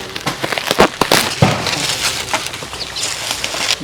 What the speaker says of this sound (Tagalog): Unboxing tayo ah. Buksan mo, buksan mo.